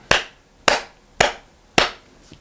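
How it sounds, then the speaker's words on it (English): Four sharp hand claps, evenly spaced about half a second apart, each crisp and close with a quick decay, followed by a faint softer tap at the end. "you can get them to count the claps that you're making"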